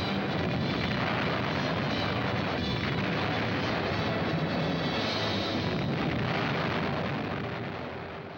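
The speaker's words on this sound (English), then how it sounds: "Rumbling on, the giant ships drop their cargoes of devastation." Bombs dropped by heavy bombers in wartime explode in a continuous, dense roar of blasts and rumble, loud and unbroken throughout before easing slightly at the end.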